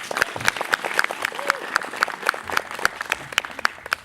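Audience applause after a drum solo at a live concert, a close burst of dense clapping that fades slightly toward the end.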